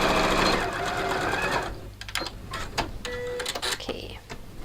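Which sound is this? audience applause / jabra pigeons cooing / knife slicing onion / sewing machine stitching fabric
sewing machine stitching fabric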